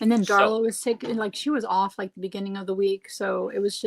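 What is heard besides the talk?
No everyday noise stands out behind the speech.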